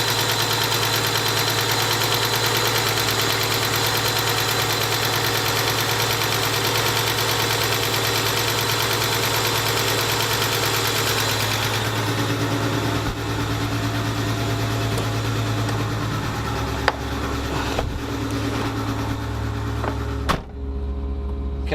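An electric air compressor filling the air suspension tank on a Subaru SVX runs with a loud, steady motor hum and whine, then changes pitch partway through before cutting off near the end, with no talk.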